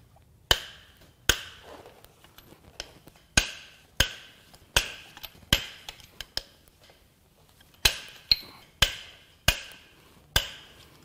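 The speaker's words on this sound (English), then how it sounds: "So that is why I check how tight they are with a breaker bar" A breaker bar working loose the main cap bolts on a failed BMW S55 twin-turbo engine from a 2016 F80 M3: a dozen or so sharp, close metallic cracks at uneven intervals, alone over a quiet background.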